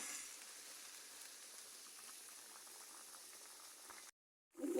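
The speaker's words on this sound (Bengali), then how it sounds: "এই চুলায় ঢেঁড়স ভাজি দিয়ে দিলাম" Okra frying in a pan on a home stove gives a steady close sizzle and bubbling hiss that runs evenly, then cuts out briefly near the end before returning.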